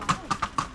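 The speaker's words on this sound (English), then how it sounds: "People walking with their horses here." Horses' hooves clip-clopping as people walk their horses along a Camino pilgrimage route in Malta: four clear, evenly spaced hoof strikes, close by and moderately loud.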